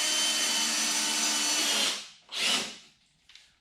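A power drill drives screws into a wooden workbench frame: a steady whirring run of about two seconds stops, then a short second burst of the drill and a faint tail follow, close and loud with no talk.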